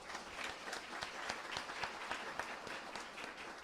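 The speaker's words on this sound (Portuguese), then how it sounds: "Pode aplaudir." An audience at a lecture applauds with steady, moderately distant clapping from many hands, an even wash of claps that carries on without a pause.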